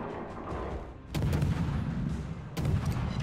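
Naval guns firing high-explosive shells in World of Warships, from the French destroyer Kleber: two heavy booming salvos a little over a second apart, each with a rumbling tail, loud and close.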